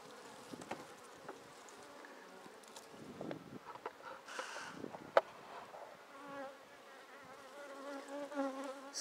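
Honey bees buzz steadily around an open hive while wax comb is cut away, a close, dense insect drone with occasional handling knocks and scrapes and one sharp click.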